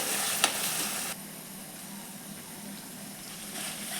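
Masala spice paste sizzles as it roasts in a pan with cooked tomatoes: a steady hiss, louder for the first second, then a softer, continuous frying crackle with faint stirring.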